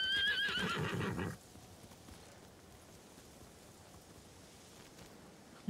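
A samurai's horse in the game Ghost of Tsushima whinnies loudly with a shrill, wavering call, then the sound drops away to a faint, quiet background for the rest.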